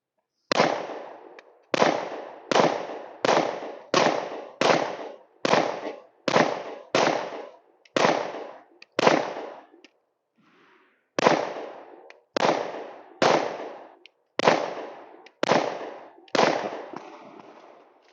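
An Anderson Kiger 9c Pro 9mm pistol fires in two long strings of sharp, evenly spaced shots, loud and close outdoors. A brief pause falls between the strings, with no talk.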